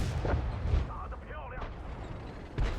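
World of Tanks battle, a Chinese WZ-131 tank firing its cannon on the Murovanka map: boom-like bursts of gunfire at the start, near the middle and again near the end over steady game noise and some talk.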